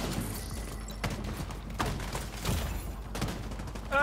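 Sniper rifle shots in the shooter game The Division 2, sharp reports in a busy firefight mix with thuds and mechanical clatter, a few distinct cracks standing out over continuous gameplay noise.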